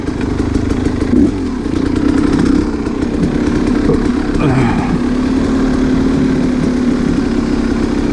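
A dirt bike rides a rough, narrow singletrack trail in North Idaho, its engine droning loudly and continuously with shifting revs and clatter over the terrain.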